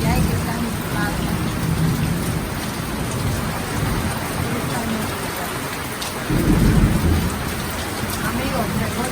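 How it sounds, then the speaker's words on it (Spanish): Heavy rain with thunder and lightning falls onto plants outdoors, a steady loud downpour with a low thunder rumble swelling near the end, while a person talks over it. "Que con truenos, relámpagos,"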